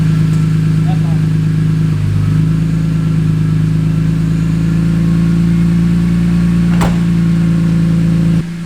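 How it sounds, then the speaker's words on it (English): A BMW E46 M3 fitted with catless headers and an El Diablo exhaust revs hard, a loud, deep sustained drone holding steady for several seconds with a brief dip, then cutting off abruptly near the end. "Tell me you guys don't like that deep sound. God, that El Diablo exhaust is... it sounds so good."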